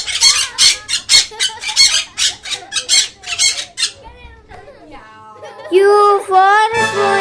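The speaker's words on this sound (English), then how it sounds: "P for parrot." A parrot squawks in a run of loud, harsh, rapid calls, followed by longer screechy cries, close and prominent.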